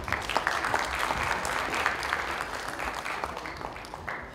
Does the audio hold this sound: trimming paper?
no